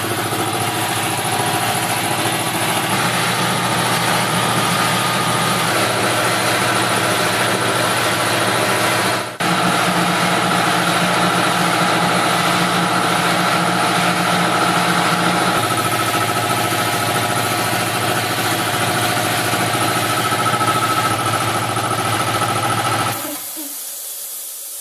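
A Puma air compressor runs loud and steady in a shop, a dense broadband roar with a constant low hum and hiss. It holds nearly unchanged for about twenty-three seconds, then cuts off abruptly near the end.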